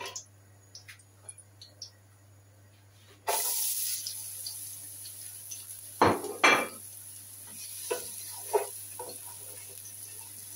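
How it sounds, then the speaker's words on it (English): Onions dropped into about four tablespoons of hot oil in a pot for a chana dal masala, a sudden hiss that settles into a steady sizzle under clinks and scrapes of utensils. "So I've added about 4 tablespoons of oil, and now I'm gonna chuck my onions in."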